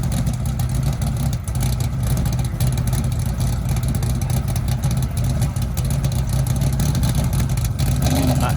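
A European stock car engine roars loud and rough continuously with throaty revving, steady and close throughout.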